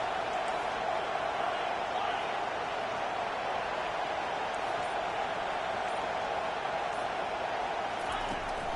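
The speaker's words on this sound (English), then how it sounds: "This crowd busting the decibel meter and trying to will a 4th down stop." A loud football stadium crowd roars steadily at a college game as fans try to force a fourth-down stop, the dense wall of cheering holding constant throughout without letup.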